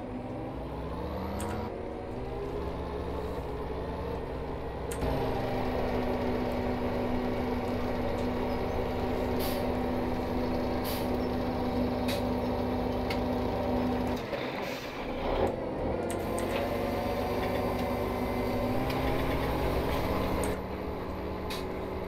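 A big tractor engine in Farming Simulator 17 drones steadily in a farm wheat field, holding a constant loud rumble throughout with slight shifts in pitch and a few short clunks and hiss-like bursts.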